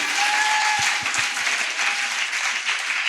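A church congregation applauds and claps steadily for Jesus during a worship service, a dense, continuous wash of many hands throughout with a few low thumps and no clear speech.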